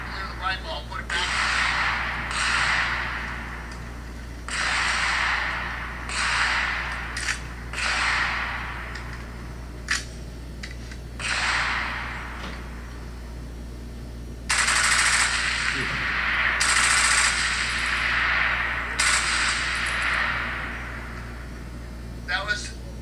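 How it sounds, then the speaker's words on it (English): Rifle firing roughly 28 rounds with one jam, sharp loud cracks in quick bursts and single shots spread across the stretch, a pause for the stoppage before firing resumes, with someone speaking at times. "That was approximately 28 rounds with one jam."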